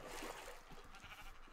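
Sheep bleating in the Minecraft video game, a few short game bleats over continuous background noise, with no talk.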